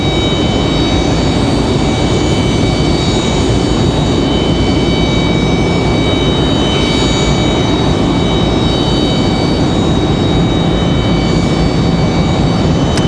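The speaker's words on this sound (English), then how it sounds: "This medevac's coming in for some fuel." Medevac aircraft arriving at Raleigh-Durham International Airport for fuel, a loud, steady engine roar with a constant whine, heard alone without talk.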